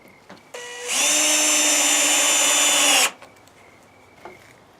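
A power drill drives a screw into a wooden shed door, one burst of about two seconds that ramps up to a loud, steady whine and stops abruptly, with quiet room sound before and after.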